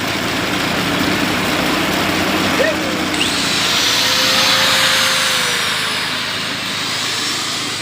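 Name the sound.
grinder running while testing a rewound diesel-driven dynamo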